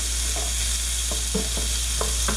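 Onions sautéing in melted butter in a pan make a steady, close sizzle with intermittent soft scraping stirs over a low constant hum.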